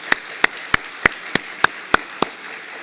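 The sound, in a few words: congregation applause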